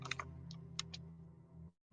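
Several quick keystrokes on a computer keyboard tap out near the start, then give way to a low hum before a brief cutout, fairly quiet and close.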